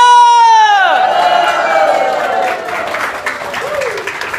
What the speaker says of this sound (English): Let's give the loudest cheer!